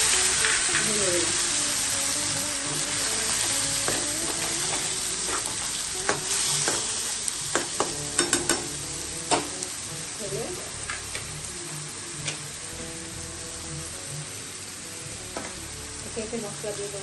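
Ginger, green chili and sunflower seed paste fries in a pan with a steady broadband sizzle, punctuated by sharp spatula scrapes and clicks as it is stirred, close and fairly loud, with faint background sounds but no clear talk.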